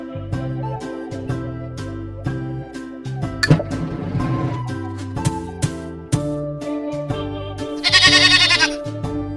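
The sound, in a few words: goat bleating in kids' animal sounds app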